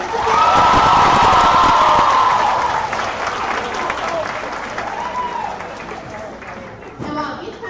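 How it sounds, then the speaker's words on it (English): A school assembly audience for Hispanic Heritage Month bursts into loud applause mixed with children's shouts and whoops, peaking early and then fading into lighter clapping and chatter. "Can we get applause for our beautiful participants?"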